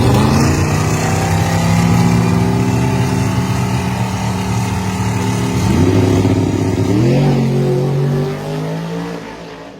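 A turbocharged small-tire drag race car roars loudly nearby, holding a high strained engine note, then shifting twice with sharp rising jumps in pitch before the sound drops away as it pulls down the track.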